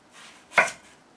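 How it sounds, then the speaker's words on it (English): A knife chops once through watermelon flesh along the rind in a kitchen, a single sharp close cut with faint rustle before it. "attempt to try to remove the rind from this, you know, cut the center pieces out from the rind"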